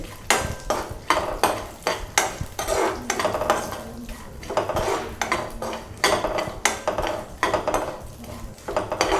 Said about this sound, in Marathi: ड्रायफ्रूट जरा भाजून घेऊया